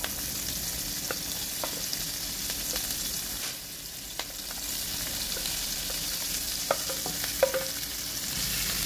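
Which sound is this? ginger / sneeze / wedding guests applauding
ginger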